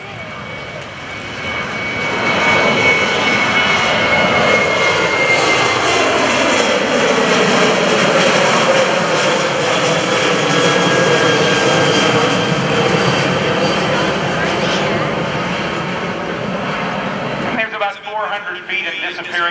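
A military airshow jet roars through a touch and go, its engines building to a loud, sustained rush that holds for many seconds before cutting off abruptly, with a commentator talking over it.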